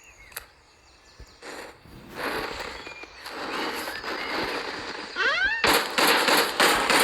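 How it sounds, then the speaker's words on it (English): Rapid bursts of gunfire crackle through a video game battle, building from scattered pops to dense, loud volleys near the end, with whistling and mechanical noises mixed in. "you hear gunshots already"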